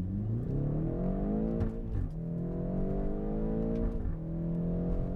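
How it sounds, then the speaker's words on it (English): A BMW X5M (F85) with a ZF automatic transmission accelerates hard. The engine note climbs steadily, then drops briefly at each crisp upshift, three times in quick succession, loud and close with no talking. "But you can hear how crisp those shifts are."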